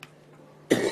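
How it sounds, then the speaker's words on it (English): A single short cough from a lecturer during a history lecture, sharp and fairly close, following a moment of quiet room tone. "Sorry about the coughing."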